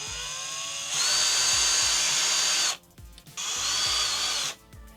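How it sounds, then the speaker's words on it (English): A power drill whines loudly in two bursts, spinning up and boring holes through a homemade sandal, with a short pause between them and a quieter gap at the end. "I'm gonna use a drill this time"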